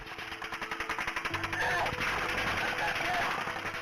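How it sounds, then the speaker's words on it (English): Rapid bursts of automatic gunfire aimed at pinned-down police officers crackle in quick, rhythmic volleys, loud and continuous, with a low rumble and faint shouting beneath. "The officers are pinned down by automatic gunfire."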